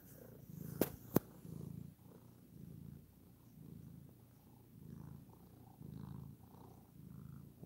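A cat purrs close by in a soft, rhythmic rumble, each breath pulsing evenly, with a couple of sharp clicks early on.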